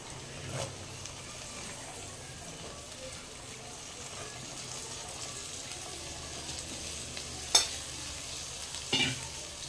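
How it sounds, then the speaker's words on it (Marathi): Mixed vegetables sauté in hot oil with turmeric for a Bhogi bhaji, giving a low, steady sizzle. A few sharp clinks of a spoon against the pan stand out, and a voice is faintly present. "आता ह्या भाज्या घालून तेलात आधी भाज्या परतून घ्यायच्या"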